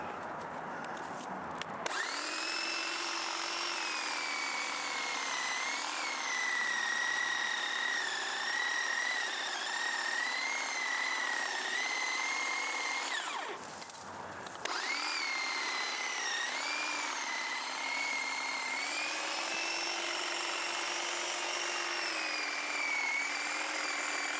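A corded electric hedge trimmer buzzes steadily and fairly close while cutting back garden grasses, its whining drone running almost without a break, briefly interrupted once near the middle, with no talking.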